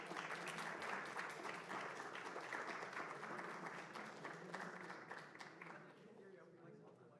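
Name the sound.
applause for tournament finalists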